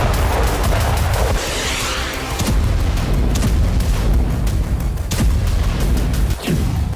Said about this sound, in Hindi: 3 रिहायशी इलाकों पर बमबारी की जा रही है।